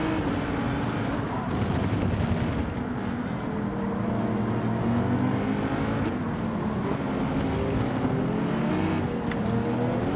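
Race car engines from Gran Turismo 7 in an online lobby race roar continuously, a dense sustained drone with rising and falling revs and other cars close by, loud throughout.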